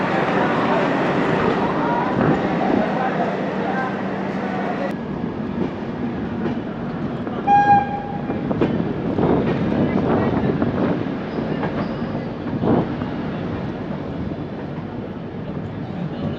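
A moving train rolls along the rails with a steady rumble and occasional clatter heard from inside a carriage, with people talking over it and some wind buffeting.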